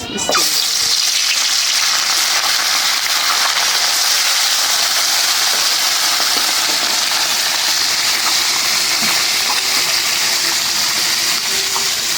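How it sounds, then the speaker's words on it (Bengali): Small fish frying in hot oil give a loud, continuous dense sizzle and crackle from start to finish, close up, with no talking over it. "তেলটা গরম হয়ে গেছে দিয়ে দিই মাছ"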